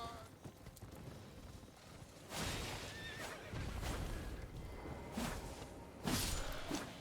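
A horse whinnies loudly several times amid thuds, whooshes and clopping hooves in the video game Elden Ring, a busy soundscape with faint voices in the background.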